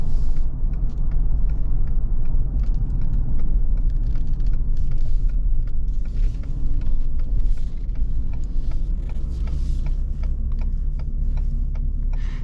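A 2019 Ford Expedition Limited 4x4 drives through a right turn, heard from inside the cabin as a steady, loud low road rumble with faint ticking clicks from the turn signal running throughout.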